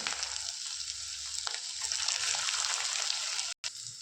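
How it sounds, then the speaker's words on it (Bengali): Soybean chunks frying in oil in a wok, giving a steady, close sizzle and crackle with a faint pop near the middle and a brief dropout just before the end. "কড়াইয়ের মধ্যে একটি একটি করে দিয়ে ভাজব পরে"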